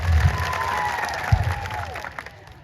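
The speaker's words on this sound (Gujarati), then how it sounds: "પોલીસ માટે એકવાર જોરદાર તાળીઓ પાડી લો." Applause from an audience at an outdoor public political rally in Kavant, Gujarat, given in support of the police, a steady wash of clapping with a few louder bursts that thins out toward the end.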